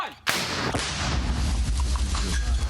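A single powerful, close blast of a recoilless anti-tank gun firing, followed by a long rumbling echo and ringing decay.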